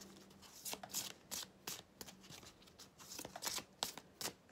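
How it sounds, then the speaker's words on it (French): Tarot cards drawn and handled from a deck, a series of quiet papery slides and snaps in irregular bursts, close and soft, no talk. "Allez, on prend une petite carte pour les Gémeaux"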